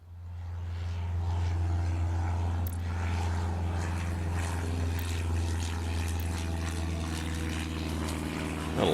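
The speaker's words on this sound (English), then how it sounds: "It does give me time to get some planes off the ground." Propeller aircraft engines drone steadily in the Airport Madness: Time Machine game, a continuous low hum with a rising mechanical whine, moderately loud and unbroken with no talking.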